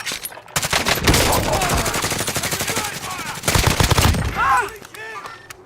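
Automatic gunfire in Call of Duty: Warzone rattles in long rapid bursts, loud and close, dropping off near the end, with faint voice callouts in the background.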